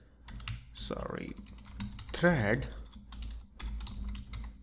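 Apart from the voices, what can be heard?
typing on a computer keyboard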